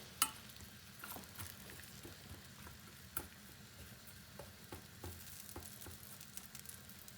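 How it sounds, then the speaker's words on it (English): Roasted sweet potatoes and parsnips are stirred in a pan with a faint sizzle underneath and light intermittent scrapes and ticks of the utensil. "at this point now, we want to give this a nice stir"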